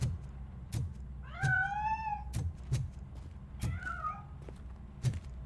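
A cat in the RoboCop: Rogue City video game gives two rising, drawn-out meows as it escapes. Faint, regular low thumps like footsteps run underneath, and nobody speaks.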